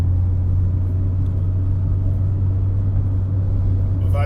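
A 2012 Mitsubishi Outlander Sport ES held at higher RPM in fourth gear gives a loud, steady, droning engine hum with constant low rumble, heard from inside the cabin without any rise or fall.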